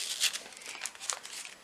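Plastic packets of a LOL surprise doll toy being opened, a quick run of soft, close crinkles and rustles with a few sharper crackles, fairly quiet and without talk.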